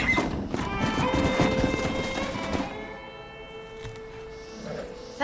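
Horse hooves clip-clop in Red Dead Redemption Remastered, a steady stream of hoofbeats under game music and ambience that fades midway, leaving quieter scattered steps.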